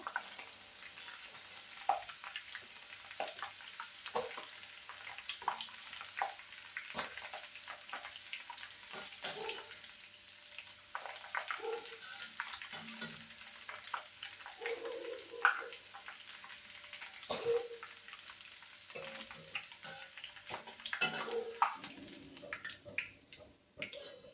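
Potatoes frying in oil over a low gas flame for chiwda, giving a quiet, steady sizzle with scattered soft crackles and pops throughout.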